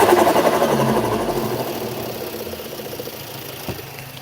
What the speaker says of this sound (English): See if you can hear the turbo flow.